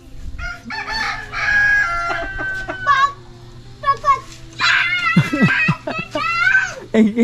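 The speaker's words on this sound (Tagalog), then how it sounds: "Meron tayong manok." A rooster at a family birthday gathering in a rural province crows loudly and clucks in repeated, close bursts, with voices talking in the background.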